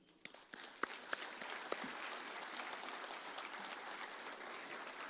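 Audience at a college live-streamed event applauds the board of directors, a fairly soft, even spread of clapping with a few sharper close claps near the start, heard at a distance.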